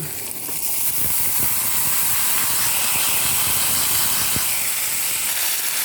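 Seasoned bitter gourd, coated with turmeric, chilli powder and salt, hits a hot pan and sizzles in a loud, steady, broad hiss that fills the whole stretch, with a few soft clinks of stirring underneath.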